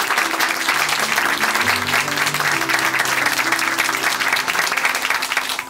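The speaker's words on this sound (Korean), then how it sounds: "우리 다시 한번 큰 박수 보내드릴게요." A church congregation in Chuncheon gives a big round of applause, a full, even wash of many hands clapping that stays loud for several seconds before tapering slightly at the end.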